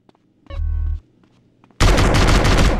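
Sustained burst of rapid automatic gunfire in Grand Theft Auto: San Andreas, loud and dense, arriving after a short tonal game sound and a quiet gap.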